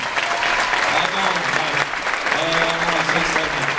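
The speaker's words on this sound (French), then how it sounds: "Je pense qu'il faut l'applaudir cette association." Audience applause for a charity association at a televised anti-cancer singing event, dense sustained clapping from a sizable crowd filling the whole stretch without a break.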